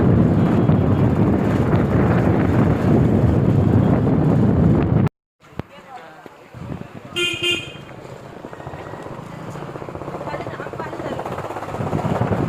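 Cool wind blowing outdoors buffets the microphone as a loud, steady rumble, then cuts off abruptly, leaving quieter outdoor background with a brief horn-like tone and distant traffic.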